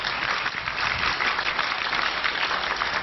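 An audience at a Hindi poetry recital breaks into steady, dense applause, many hands clapping together at full volume without a pause for about three seconds.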